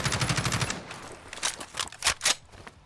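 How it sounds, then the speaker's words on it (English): Kilo 141 rifle in a modded Fallout 4 game fires a rapid automatic burst of sharp cracks, followed by a few spaced single shots, crisp and close with no talking. "let's take a look at some of these custom animations as well as firing sounds"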